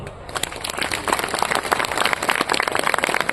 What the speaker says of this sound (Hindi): आप अपने स्वागत पर ताली बजाइए